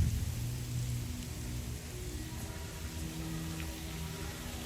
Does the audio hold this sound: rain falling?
yes